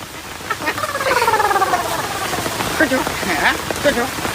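Rain falls in a steady, fairly loud patter, with a voice sounding over it.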